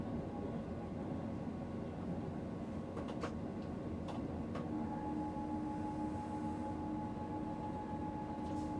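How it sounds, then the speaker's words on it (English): Night train crossing a mountain pass on the Oslo–Bergen line at about 80 km/h, giving a steady, unbroken rolling rumble with a faint sustained hum and a few brief clicks. "right now the train is traveling at approximately 80 kilometers per hour"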